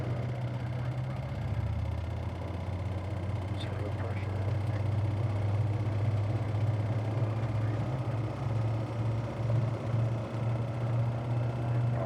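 A Sling HW light aircraft engine during a ground run-up holds a steady, loud droning hum for the whole stretch, with the throttle being advanced toward 4,000 RPM.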